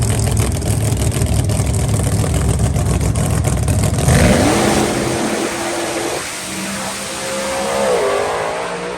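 Two No Prep Kings drag race cars launch hard at full throttle, a loud, dense engine roar for about four seconds, then rising revs sweep upward as the cars pull away, fading to a distant, wavering drone.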